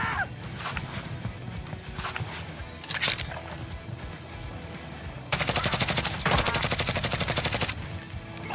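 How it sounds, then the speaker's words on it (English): Gunfire in the video game Warzone, intermittent shots early on, then a loud sustained automatic burst lasting several seconds near the end. "Someone else is shooting that?"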